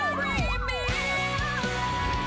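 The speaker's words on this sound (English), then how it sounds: "That's what sirens are." An emergency siren wails nearby, its pitch sweeping up and down repeatedly, over a low rumbling engine.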